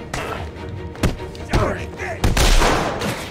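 Enemies in Arkham City fire at close range in several sharp bursts of gunshots with thuds and booms between them, loud in the foreground.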